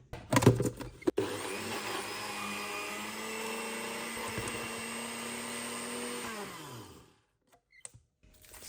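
A blender blitzes slices of bread into breadcrumbs for a bean burger mix, a steady loud motor whine running about six seconds before winding down and stopping, with a few knocks at the start.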